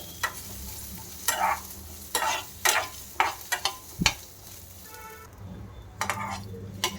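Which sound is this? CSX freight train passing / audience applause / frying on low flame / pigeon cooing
frying on low flame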